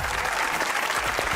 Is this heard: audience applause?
yes